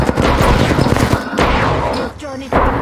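Rapid volleys of video game gunfire crack in dense bursts with short pauses between them, loud and close, while a voice talks over the shooting.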